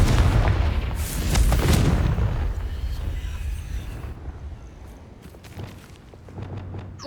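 A Confringo blasting spell bursts in Hogwarts Legacy, a loud booming explosion with a rumbling low-end blast in the first two seconds that decays into a fading, crackling tail.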